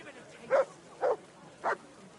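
A dog in Kingdom Come: Deliverance II gives three short, evenly spaced barks at moderate distance over a quiet background.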